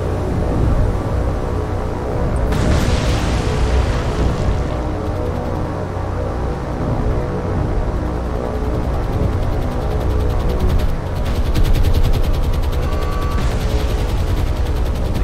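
Torpedo and bomb strikes exploding on a battleship in War on the Sea, a steady dense roar of rumbling blasts and rattling gunfire throughout, with brighter bursts joining at intervals.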